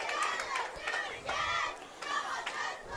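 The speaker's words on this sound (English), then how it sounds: "that gets a little bit of a roar from the crowd" Crowd roaring and yelling at a high school football game for the Redfield Pheasants, several surging swells of cheers and shouts, loud and continuous.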